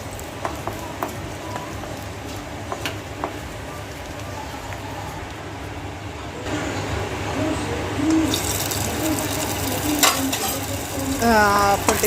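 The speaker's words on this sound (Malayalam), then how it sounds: "പിന്നെ ചെറിയ ഉള്ളിയും കറിവേപ്പിലയും ഒരു വറ്റൽമുളകും കൂടി ഇട്ടിട്ട് താളിച്ച് കറിക്കകത്തിൽ അവസാനം ഒഴിക്കുവാണ്." Mustard seed tempering with shallots, curry leaves and a dried red chilli is poured into vegetable kurma curry made in a pressure cooker, setting off a bright, crackling sizzle partway through over a low, steady background.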